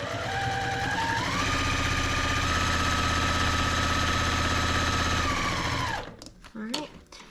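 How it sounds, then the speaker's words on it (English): A home sewing machine runs fast and steady while piecing quilt fabric, a continuous whirring hum that winds up, holds, then stops, followed by brief handling clicks and a short vocal sound. "I like to sew fast. Barefoot and pedal to the metal is always what I do."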